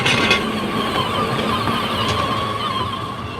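Small rented motorbikes pass along a resort street in Sa Coma, Mallorca, on a summer evening, with a steady mid-pitched engine drone running throughout the clip and no talk.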